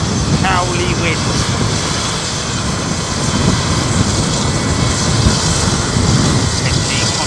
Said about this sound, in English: big radial engine. Much like B-17 really